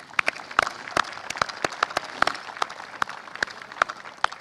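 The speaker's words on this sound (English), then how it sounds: "Let's give them a round of applause, please." A small audience at a US Army battalion reactivation ceremony gives scattered, distinct handclaps, a sparse rhythmic patter of individual claps rather than a dense roar.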